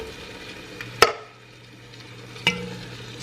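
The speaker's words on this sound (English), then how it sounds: "Stir this a little." Canned diced tomatoes with green chilies and corn stirred in a cooking pot, two sharp clanks of the spoon against the metal rim standing out over a faint, steady bubbling background.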